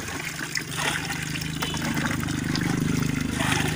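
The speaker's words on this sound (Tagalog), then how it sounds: "dungagan at tubig" Water poured into a container while mixing molasses for a hollow-block business, a steady close splashing trickle that grows fuller and louder as it fills, with faint background voices.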